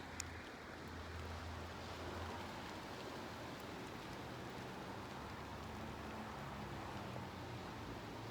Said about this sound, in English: We're getting rained on.